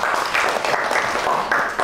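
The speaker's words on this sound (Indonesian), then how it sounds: "Ya, tepuk tangan dulu." Audience applause during a university education management lecture; dense, continuous clapping from a room of students, fairly loud and brief.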